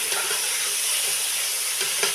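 Boiled beef tipped into a hot pot while making beef yakhni biryani, giving a steady, loud sizzle and hiss that runs through the whole stretch with a few brief stirring bumps and no voices.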